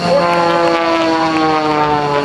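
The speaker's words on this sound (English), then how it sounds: "Now watch this airplane." John Klatt's Air National Guard aerobatic propeller airplane drones at an air show open house, a loud steady engine tone holding pitch throughout, with no talk.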